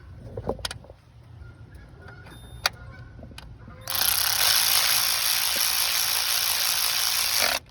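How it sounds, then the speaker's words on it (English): Electric ratchet running a spark plug in on a 2012 Honda Accord engine, a loud steady whirring buzz that starts midway after quiet clicks and handling noises and runs for a few seconds before cutting off abruptly. "now we can use our electric ratchet to run it the rest of the way."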